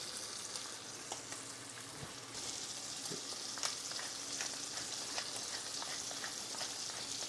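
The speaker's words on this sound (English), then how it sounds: "Our bacon's been rendering for about 3 minutes on medium-low heat." Bacon seasoned with salt and pepper renders in a pan over medium-low heat, giving a soft, continuous sizzle with scattered small pops, fairly quiet and steady, with no voices.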